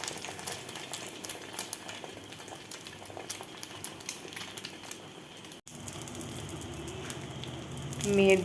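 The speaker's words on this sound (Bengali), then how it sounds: "ডিমের অমলেট করছি।" An egg omelette fries in a pan in a home kitchen, a steady soft sizzle running continuously at moderate loudness, growing slightly louder near the end, with no voices over it.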